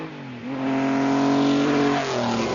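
A Maserati MC12 sports car's 2.5-litre straight-six engine revs up, its pitch rising and holding in a smooth, strong howl before easing off slightly, close and loud.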